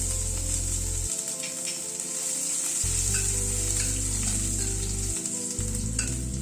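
Chopped garlic, nigella seeds and dried red chilli fry in hot oil, making a loud continuous sizzle with a crackling, spitting top and stirring scrapes over a steady low hum, no voices.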